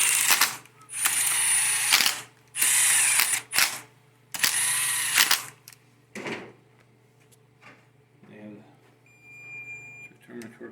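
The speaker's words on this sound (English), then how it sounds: "I'm going to snug these up. I'll torque them down with a torque wrench." A ratchet snugs up the bolts on a 4L60E transmission pump: three long, loud, buzzing bursts of rapid clicking close by, followed by quieter scattered clicks and handling noises.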